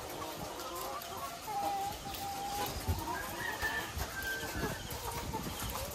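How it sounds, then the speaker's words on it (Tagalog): A crowd of laying hens clucking and squawking in a busy indoor layer house, with a steady background din and a few faint murmurs. "Ito po yung mga manok natin sa layer building number 2 mga kaitlog."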